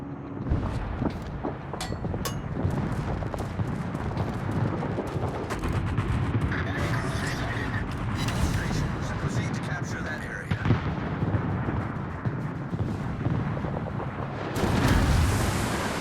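Warship guns fire in the naval battle game World of Warships, with scattered booms and rumbling blasts over a constant battle din while someone talks throughout.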